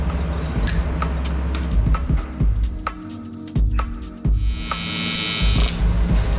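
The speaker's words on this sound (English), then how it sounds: "So we're gonna go ahead and tack each side and then start running our beads." TIG welding tacks metal pieces together without filler wire before running beads. A buzzing arc is broken by sharp crackles and pops, with a steadier hissing stretch near the end.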